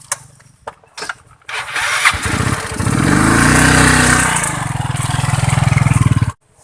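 A motorcycle engine cranks with a few short bursts, then catches and runs loudly and steadily for several seconds before cutting off abruptly; no talking.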